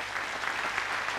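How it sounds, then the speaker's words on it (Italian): Brief burst of audience applause for Topo Gigio during a live Italian variety show, dense clapping from a crowd heard alone for a short moment. "facciamo un applauso a Topo Gigio"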